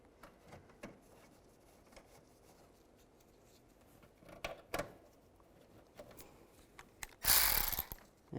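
Hand ratchet tightening bolts under the front bumper of a 2007-13 Chevy Avalanche: quiet intermittent clicks and metallic scrapes close by, ending in a brief louder rattling burst near the end.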